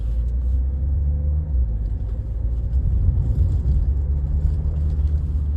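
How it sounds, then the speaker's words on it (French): A 161 hp 1.6 Renault Scenic 4 Édition One speeding up, its engine a steady close rumble that swells slightly as it pulls, with no talking over it. "Je vais accélérer un petit peu, attention, on écoute ça"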